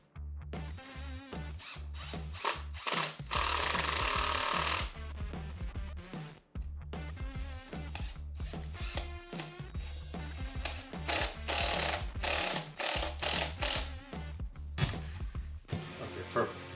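A power drill drives screws to fasten clamped parts of a homemade workshop tool, whirring in several bursts of varying length with short pauses between them.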